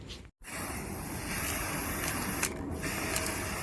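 A 400 ml can of black spray paint hisses steadily onto a vehicle, close and continuous, with one brief pause near the start.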